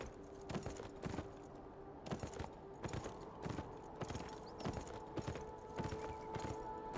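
Horse hooves in the video game Beyond: Two Souls clip-clop at a steady walking pace, evenly spaced thuds repeating throughout against a soft ambient background.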